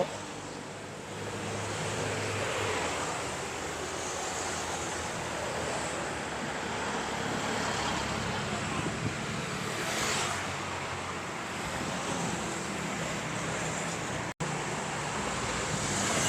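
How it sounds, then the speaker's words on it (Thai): Steady road traffic near the Pin Klao intersection in Bangkok, a continuous broad roar of passing cars with gentle swells as vehicles go by and wind noise mixed in. "รถเนี่ยวิ่งมาจากปิ่นเก้าค่ะ มาจากแยกปิ่นเก้า"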